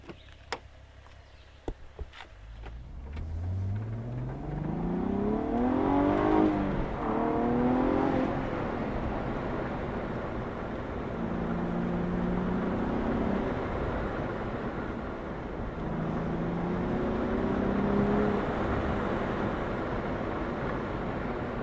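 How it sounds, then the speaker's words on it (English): From inside a 2016 Cadillac ATS-V, its roughly 460-horsepower twin-turbo rear-wheel-drive V6 revs up hard through several gears with rising pitch and shifts, then settles into steady cruising drone with later surges, loud and continuous, after a few early clicks. "about 460 horsepower from the twin-turbo V6 straight to the rear wheels"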